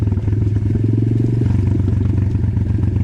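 The engine of an Apollo DBX18 dirt bike drones loud and close, a steady throbbing note that drops in pitch midway as the rider downshifts on a rocky road.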